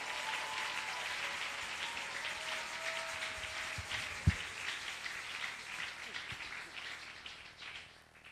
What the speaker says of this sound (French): acclamez pour sa parole maintenant